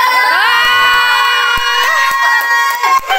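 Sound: family shouting and cheering at birthday celebration

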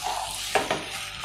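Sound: chicken sautéing on high flame

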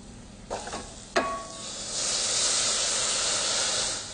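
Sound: vegetable broth added to toasting long grain brown rice

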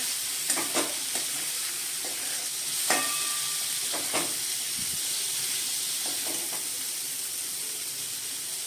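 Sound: sprouted moth beans stirred into sizzling masala

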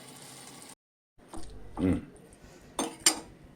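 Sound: lid placed on a pot of jackfruit curry to steam

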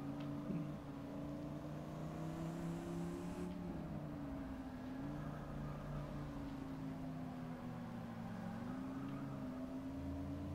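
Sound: Chryslus Rocket 69 car engine in Forza 6 video game

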